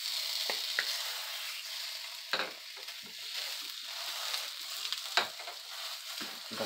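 Half a cup of pork sausage sizzles steadily in a frying pan for a breakfast pizza, a dense, even hiss broken by a few sharp pops and spatters, with no talking.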